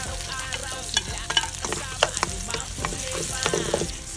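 Garlic and onion sauté in a hot pan for a Filipino balbacua dish, sizzling steadily with intermittent scraping stir strokes close up and no talking.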